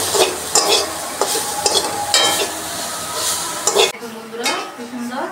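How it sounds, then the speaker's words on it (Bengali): Broken rice stir-fried in mustard oil for a village-style khuder bhat, a dense crackling sizzle with repeated scrapes and clinks of a spoon against the pan; the sizzle drops off near the end, leaving quieter pan noise. "সরিষার তেল, যাতে এটা ভালো করে একটু ভাজা ভাজা হয়।"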